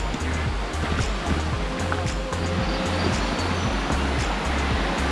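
Water flows steadily at Hidlumane waterfall on the Kodachadri trek, a dense, even rushing roar close by that fills the whole clip, with no voices.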